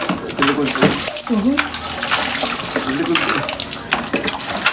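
Water gushes from a hand pump and splashes during a dog's bath outdoors, a steady broadband wash running throughout with people talking over it and voices rising and falling.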